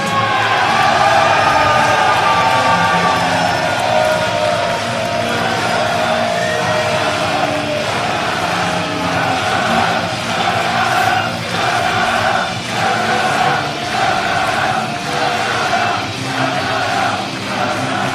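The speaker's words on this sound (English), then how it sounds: "Crowd on their feet, cameras are out." A pro wrestling crowd on its feet cheers, whoops and yells loudly and continuously for Yuji Nagata's West Coast debut against Davey Richards, with rhythmic chant-like pulses later on.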